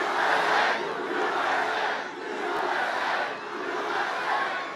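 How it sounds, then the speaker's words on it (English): A big crowd at a Trump campaign rally in Waterford Township, Michigan roars and chants in loud, continuous waves that swell and dip rhythmically, with no single voice standing out. "This is a big crowd."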